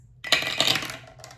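Coins set down on a card during a pirate treasure board game, a short cluster of metallic clinks and taps close by with no talk.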